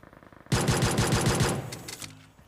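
Rapid pistol fire in a battle-royale mobile game's Conqueror-tier match, a loud burst of about eight evenly spaced shots lasting roughly a second and a half, then fading reverberation with no voices.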